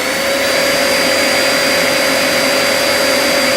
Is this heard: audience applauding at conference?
no